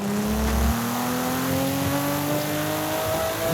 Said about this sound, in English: They honestly nailed the sound of the stock Supra in this game